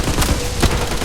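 Rapid gunfire rattles loud and close in the Blood Strike shooter's zombies mode, a dense fusillade of overlapping shots with no pause.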